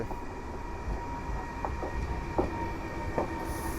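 An ED74 electric multiple unit makes a shunting move at Katowice station, giving a steady, moderately loud rail rumble with a few faint wheel clacks and squeaks spaced through it.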